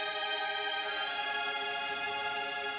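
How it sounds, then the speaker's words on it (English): Soft, sustained string chords from the Final Fantasy XVI soundtrack hold a slow, mournful tone, steady and unbroken throughout, with no voices. "very sad strings."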